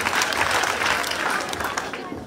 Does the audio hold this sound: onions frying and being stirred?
no